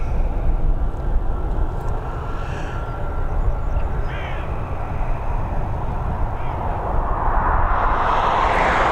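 An 18-year-old Boeing 737 bound for Reus takes off at Dublin Airport, its loud, steady jet roar filling the air and swelling toward the end, with crows cawing now and then.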